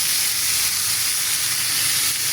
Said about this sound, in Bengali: আচ্ছা, এই পিসটা ভাজা হোক।